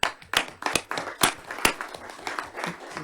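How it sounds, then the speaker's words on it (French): Applause at a town council meeting in Soorts-Hossegor, France: a small group clapping in an irregular scatter of sharp hand claps over about three seconds, moderately loud and fairly close, fading slightly toward the end. "Et je voudrais qu'on les applaudisse."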